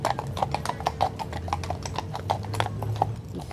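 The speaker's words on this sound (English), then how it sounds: "They just have the horses just strolling, yeah." Horses' hooves clip-clop steadily as the animals stroll along a park path near Batu Caves in Kuala Lumpur, a close, even rhythm of hoof strikes with light background ambience and no speech.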